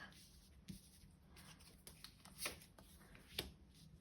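Tarot cards being shuffled and drawn during a reading, soft papery riffling and light slaps at close range, very quiet, with a few sharper card snaps standing out.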